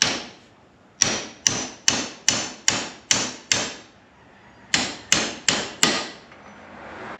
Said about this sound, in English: Normally I wouldn't recommend just pounding the bolt through there